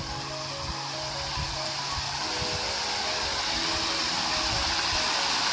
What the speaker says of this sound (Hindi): झरने के पानी का आवाज़ भी आपको आ रहा होगा